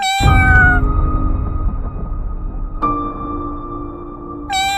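A cat meows loudly and close, drawn-out calls with a rising wail at the start and another long meow midway, alone without talk.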